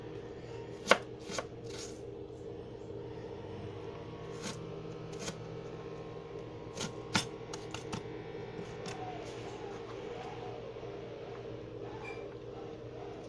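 Knife chopping half an onion into large chunks on a cutting board for dorado ceviche, a handful of sharp, irregular chops over a steady background hum, close and fairly clear.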